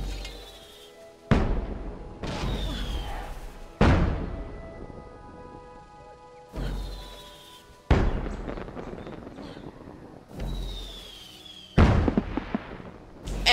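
Fireworks burst repeatedly in the Guild Wars 2 video game during a snowball event, each loud sharp explosion followed by a crackling, fading tail, about six blasts spaced a couple of seconds apart with no talking.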